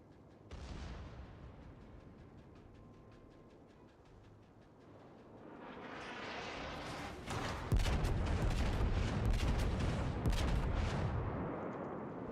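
Großer Kurfürst battleship guns fire in World of Warships, deep booming salvos that build into a loud rumbling barrage of overlapping blasts and crackle in the second half.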